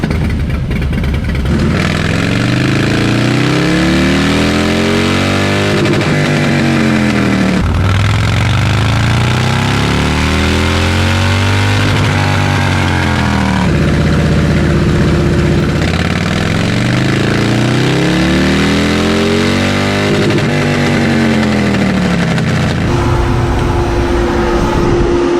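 A Harley-Davidson 131ci Stage 4 V-twin with a ThunderMax tuner roars through repeated dyno pulls, the loud engine note rising steadily to high revs, dropping back, and climbing again in several long sweeps with no talk.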